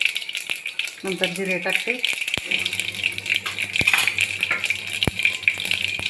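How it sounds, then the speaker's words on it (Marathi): Mustard seeds crackle in hot oil in a home kitchen pan, giving scattered sharp pops and ticks over a low sizzle while someone speaks briefly nearby. "बघा आवाज येतोय मोहरीचा तुम्हाला"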